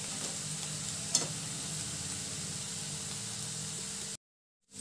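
Cardamom powder is stirred into a thickened sweet mixture in a pan, giving a steady, soft sizzling hiss with faint scraping and one brief clink, even and continuous before cutting out to silence near the end.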